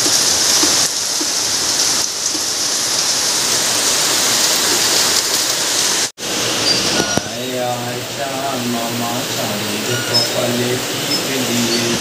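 Heavy rain pours steadily outside a flooding house in a loud, dense hiss, with a brief dropout midway and then a voice talking over the downpour.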